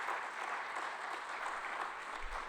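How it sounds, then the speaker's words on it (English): Steady applause from a conference audience thanking the organising staff at an academic general assembly, a continuous even wash of clapping throughout. "I can take this opportunity to ask you an applause for the entire staff"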